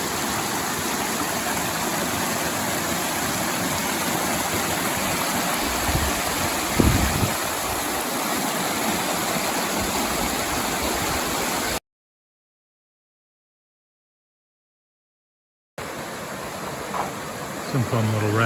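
Steady broadband rush of river rapids along the Appalachian Trail in Maine, loud and continuous. It cuts to silence for a few seconds, then the rushing water resumes.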